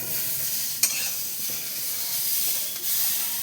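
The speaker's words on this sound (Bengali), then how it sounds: "সবজিগুলো আমি নাড়িয়ে চাড়িয়ে একটু একটু ভাজা ভাজা করে নেব" Vegetables stir-fry in a pan with a soft sizzle and hiss, broken by a few sharp scrapes and clicks of stirring at irregular intervals.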